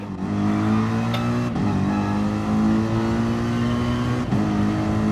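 An AMG race car engine revs hard in a racing game at the Nurburgring GP, holding a loud, steady harmonic drone broken by two quick dips at gear shifts.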